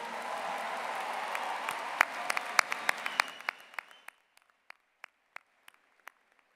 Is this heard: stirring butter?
no